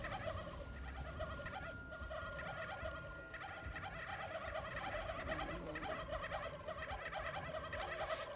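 A flock of virtual turkeys in How to Survive 2 keeps up a dense, continuous gobbling chorus, close and loud, layered over a low droning background.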